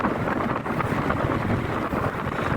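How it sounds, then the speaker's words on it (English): Strong wind buffeting an outdoor microphone on the seafront at Southport, West Lancashire, a loud, continuous rumbling roar that fills the whole stretch without letup. "from that you can tell the wind is blowing directly into my face"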